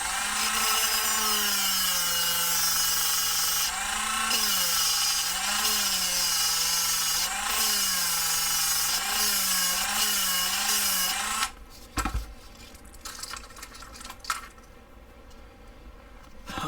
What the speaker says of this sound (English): I don't mind just using a Dremel real quick to make that hole as big as we need it to be